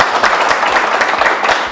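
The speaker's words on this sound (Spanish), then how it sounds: "También le pido, por favor, un aplauso." Loud, dense applause fills the room at an electromobility training talk, many hands clapping close together with a faint pulsing rhythm and no voices over it.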